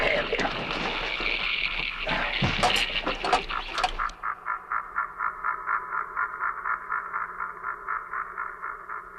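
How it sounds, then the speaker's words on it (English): Catfish school effect from a 1973 radio drama aboard an undersea craft: a steady run of short, evenly spaced pulsing croaks, fairly loud and alone, following a burst of busy voices and rumbling noise. "What's that noise? Catfish."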